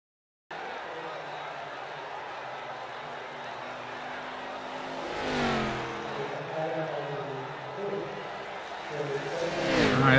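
A race car engine in a video game sweeping past on the track, a steady droning hum that swells into a couple of pass-by whooshes, under continuous commentary.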